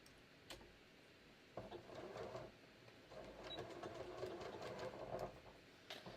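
A domestic sewing machine runs a seam on shorts fabric, a quiet steady mechanical whirring in two bursts separated by a short pause, with light ticking at the start.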